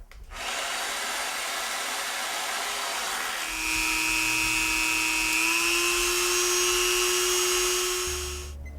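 A small high-pitched power tool whines steadily, its motor pitch rising slightly partway through, running close and loud without speech.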